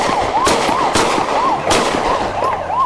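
Repeated gunshots from police firing at a white car that rammed officers during a late-night chase in Hualien, Taiwan, sharp cracks at irregular intervals over a steady wailing siren.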